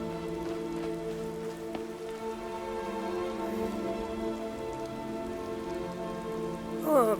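Steady rain falls in the Skyrim VR video game, a constant even patter with a low sustained musical drone underneath and a brief brighter sweep near the end.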